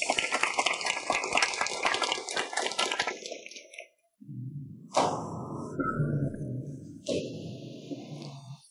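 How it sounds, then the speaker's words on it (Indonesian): Applause at an engagement party: dense crackling clapping fills the first few seconds, then fades and gives way to music. "Mari kita berikan tepuk tangan meriah."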